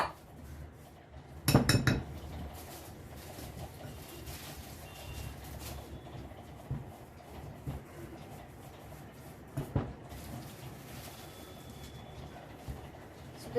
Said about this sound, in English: That's the reason we need to give our filling a good mix.